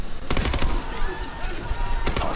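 Gunfire from the video game Future Soldier, several sharp bursts of shots at the start and again near the end, loud and close, with a constant game soundscape beneath.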